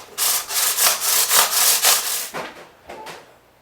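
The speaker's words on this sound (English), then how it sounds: "I'm just really trying to take away most of the really deep scratches with the 400." A 2009 Gibson Les Paul Jr. guitar body being sanded by hand with 400-grit sandpaper, about ten quick back-and-forth rasping strokes in a steady rhythm, close and loud, slowing near the end, with no talking.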